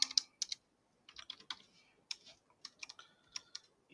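Quiet close-up typing on a computer keyboard, irregular bursts of light clicky keystrokes separated by short pauses, alone without talk.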